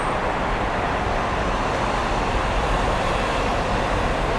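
Steady broadband rumble of a Dubai Metro train rolling past, blended with continuous road traffic noise, loud and unbroken throughout with no voices.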